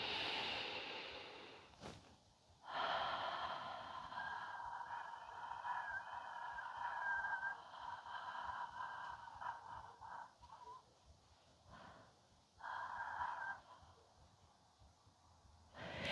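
Long, slow, breathy exhales with audible airflow come from a postpartum diastasis recti breathing exercise. They are close and soft, with brief pauses and a quick inhale between breaths.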